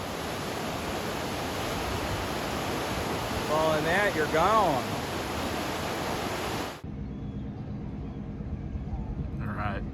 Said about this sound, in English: look at this river